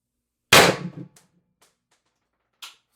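A single sharp crack from a heated-CO2 Pistelle X-68 airsoft pistol in a Storm Trooper build, loud and close, with a quick ringing decay and a faint metallic tap about two seconds later.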